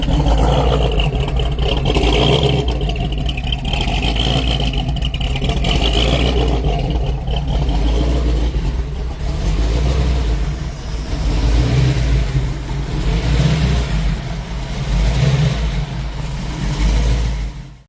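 A 1970 Chevrolet Camaro Pro Street build with a 1967 L88 427 V8, already warmed up, roars loudly and continuously up close, its revs swelling and falling in repeated surges.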